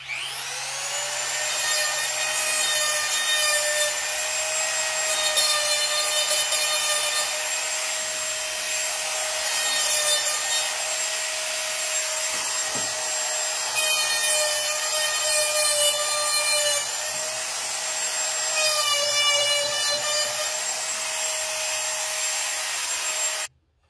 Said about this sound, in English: Sand a little bit of the sharpness off.